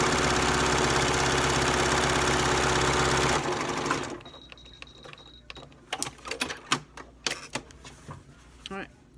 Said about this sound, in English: I am back stitching at the edge of each stitch just to make sure it holds